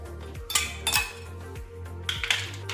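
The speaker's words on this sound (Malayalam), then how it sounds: "ഐസ് ക്യൂബ് ഇടുന്നത് നമ്മുടെ ഇതിൻ്റെ മാക്സിമം വെള്ളം ഉള്ളിൽ സേവ് ചെയ്ത് വരാൻ വേണ്ടിയിട്ടാണ്" Ice cubes are dropped into a glass vessel of water, making a few close, bright clinks and knocks in two small clusters over a low continuous background hum.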